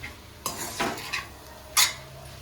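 Goat tripe being stirred and fried with salt and chili in a pan over low heat, giving a few distinct scraping clinks of a spoon against the pan over a faint sizzle, with no talking.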